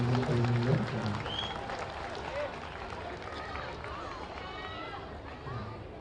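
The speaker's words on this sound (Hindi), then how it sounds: "जोरदार तालियां बजाकर सीताराम बोलकर के स्वागत अभिनंदन करें।" Crowd at a Sanatan Hindu Ekta rally applauding, a distant, diffuse patter of clapping mixed with background voices and some chanting, louder at the start and then settling to a fainter steady murmur.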